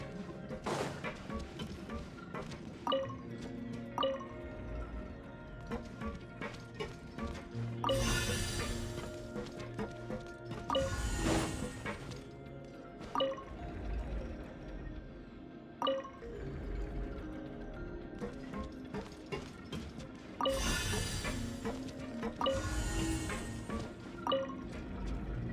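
Water surges and rises in Genshin Impact after a mechanism is activated, with steady sloshing and dripping, pouring swells and bursts under game music and a voice talking.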